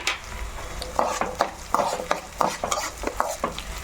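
Fenugreek and cumin seeds roast in a pan for curry leaf powder, with a brisk rhythmic series of spoon scrapes and stirring strokes over a faint dry crackle, close and steady.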